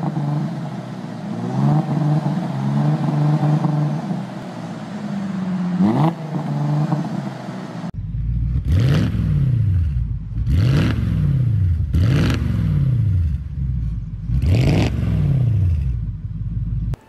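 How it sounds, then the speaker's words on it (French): A V6 car engine idles with a rough burble through an aftermarket exhaust, then revs up repeatedly, four rising and falling bursts of throaty exhaust, loud and close. "une fois équipées du V6 et libérées avec de bonnes lignes d'échappement peuvent quand même donner une sonorité très"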